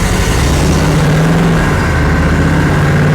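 A rebuilt 1939 Ford engine runs steadily after cranking during break-in, a loud continuous low idle rumble with a slight rise in pitch partway through, no voices over it.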